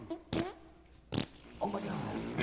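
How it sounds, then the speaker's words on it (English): Flatulence sounds in a comedy radio studio: a few short, close, buzzy bursts separated by pauses, the last one drawn out and rougher. "It's about the passing gas."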